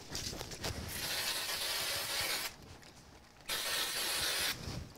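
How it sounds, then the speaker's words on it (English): Two long bursts of spray glue hiss close by onto a handmade card, separated by a short pause, with a few quick shorter sprays at the start. "I'm just going to use some spray glue on this."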